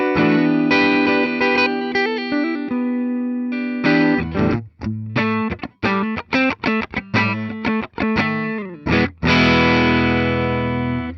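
An electric guitar, a 1996 Gibson MIII All American with triple humbuckers played through the neck pickup, plays chords and quick riffs with a warm, full tone, heavily effected with chorus and slight distortion, loud and close.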